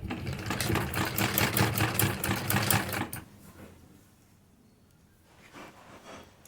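A sewing machine stitches the folded hem of a salwar in a fast, loud rattling run that stops abruptly about halfway, leaving near silence with a faint rustle of cloth afterward.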